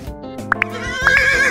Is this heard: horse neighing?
yes